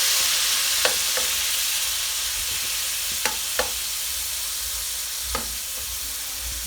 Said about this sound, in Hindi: टमाटर ऐड कर देते हैं। जैसे ही टमाटर हमारे फ्राई होते जाएंगे